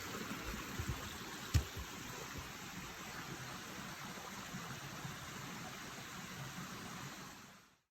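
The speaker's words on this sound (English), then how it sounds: "Something pleasant about the waterfall, isn't there?" A waterfall on the West Highland Way gives off a faint, steady rush of falling water that holds even throughout, with one brief thump near the start.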